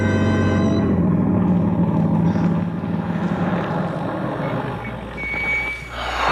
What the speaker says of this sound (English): Tom Stevens and Helen Benson drive up to the boarding house after their picnic